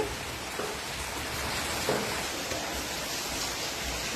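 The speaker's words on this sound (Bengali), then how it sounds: "প্রচুর বৃষ্টি হচ্ছে বাইরে বৃষ্টি বাইরে বৃষ্টি পড়েই যাচ্ছে একভাবে" Heavy rain falls steadily outside, a constant even hiss at moderate distance with no voices.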